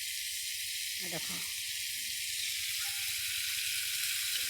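Shrimp fry in a hot pan with a steady, bright sizzling hiss that runs without a break. A voice speaks briefly over it.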